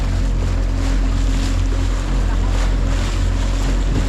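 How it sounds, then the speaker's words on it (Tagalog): A boat sits in a strong river current while a fish trap is being hauled up. Loud, steady rushing water and wind buffeting fill the whole stretch, close and continuous, with no talk. "Sobrang lakas ng agos."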